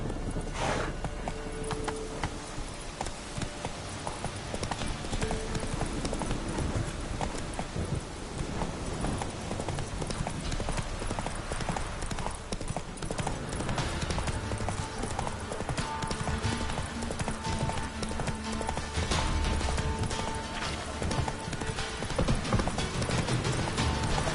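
A horse galloping in the video game The Witcher 3, rapid clip-clop hoofbeats with jingling tack and occasional whinnies, steady over a busy, loud game soundscape.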